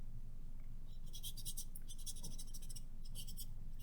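A twisted paper towel rubbing over a drawing to smudge it, a close, soft, continuous scratchy scrubbing in repeated strokes over a steady quiet background hiss.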